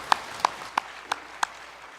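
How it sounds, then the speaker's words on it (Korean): Applause during a church worship service, heard as five separate, evenly spaced sharp claps, fairly close and distinct, over a quiet room background. "박수를 하나님께 드리겠습니다."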